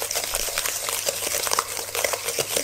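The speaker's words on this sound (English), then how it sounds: "Keep on stirring until the sugar gets dissolved." Sugar and eggs being stirred quickly in a bowl for lemon butter, a close, busy scraping and clinking that repeats rapidly and continuously without any talk.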